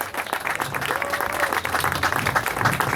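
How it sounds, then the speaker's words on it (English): Audience applause for rally enthusiast Gary Jennings at a Deja Vu show in Ramelton, dense continuous clapping from a sizeable crowd, close and loud for the whole stretch with faint voices mixed in. "Mr. Gary Jennings, folks, give him a big round of applause."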